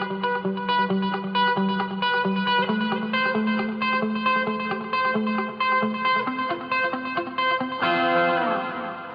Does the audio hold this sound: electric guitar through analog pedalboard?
yes